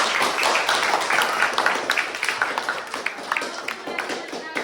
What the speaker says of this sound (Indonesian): Ya, tepuk tangan dulu untuk kelompok 1.